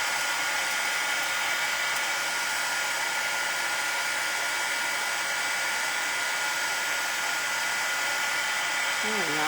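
A heat tool melting clear embossing powder gives a steady, close, hair-dryer-like rush of blowing air that runs unbroken and evenly loud for the whole stretch.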